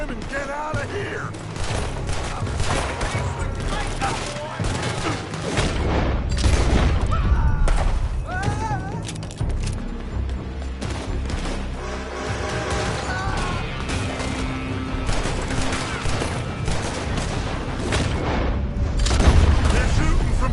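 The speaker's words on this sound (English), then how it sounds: "They're shooting from that building!" Gunfire crackles through a shootout mission in Red Dead Redemption 2 as bursts of shots and booms repeat over a roaring, chaotic backdrop, with voices shouting over the fighting.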